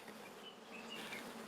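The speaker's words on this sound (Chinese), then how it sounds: "這個野生來的蜜蜂啊，急不得。" Wild bees buzz faintly around a hive box set in a mountain cave, a soft continuous hum with a few individual bees droning past more distinctly, no talk.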